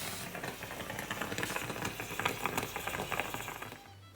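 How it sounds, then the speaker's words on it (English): A moka pot of coffee on the smallest stove burner reaching the boil, giving a steady gurgling, sputtering hiss with crackly bursts that swells slightly then fades, with no talk. "a boiling noise."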